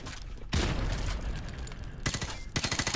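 Bursts of automatic gunfire aimed at a light in Call of Duty 4 Modern Warfare Remastered, two loud rapid volleys separated by a brief pause, close and sharp with echoing tails.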